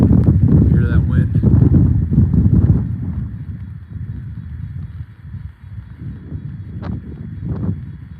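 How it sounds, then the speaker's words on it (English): Wind gusting across an outdoor Michigan lake shore in winter lake-effect weather, a steady broadband rush under voices that speak over it at first, then fades into a lower, continuous blowing. "Hear that wind?"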